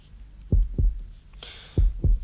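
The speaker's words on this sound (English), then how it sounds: "heartbeats." Heartbeat sound in the horror video game Cardiophobia, two pairs of deep, thumping lub-dub beats, loud and close against a faint background hum.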